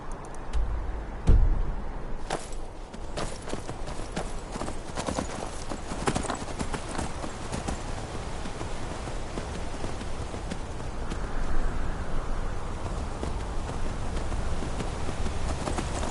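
Horse hooves clip-clop steadily in Skyrim's Reach region, a rhythmic trotting beat close by over ambient outdoor noise, continuing throughout with a brief louder thud early on.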